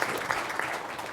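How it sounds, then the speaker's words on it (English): A crowd applauding steadily, dense clapping that fills the room without a break. "Let's give Frank a applause."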